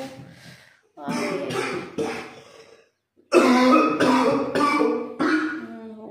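Someone clears their throat and coughs several times in short bursts, close by, with pauses between.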